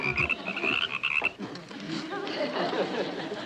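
Several frogs croak in a sitcom scene, a close run of rattling, throaty croaks that blend into a steady chorus.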